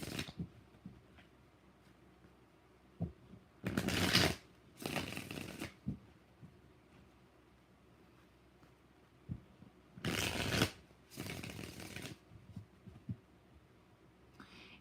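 Tarot cards are shuffled in four soft, rustling bursts, arriving as two closely spaced pairs separated by several seconds of near silence, all quiet and close.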